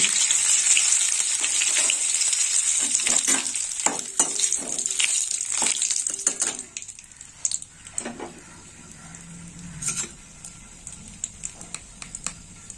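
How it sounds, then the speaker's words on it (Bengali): Whole garam masala, two bay leaves and hing hit hot oil for a dahi aloo tempering, giving a loud, bright crackling sizzle that fades after several seconds into quieter intermittent spitting and stirring clicks. "তেল গরম হয়ে গেছে, তা ফোড়নে দেবো গোটা গরম মশলা। দিয়ে দেবো 2টো তেজপাতা, আর দিয়ে দেবো হিং।"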